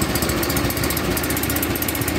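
An engine idles steadily on a machine called the 210, which is running poorly, with a continuous rough low rumble and a faint tick on top, close and alone without any talk.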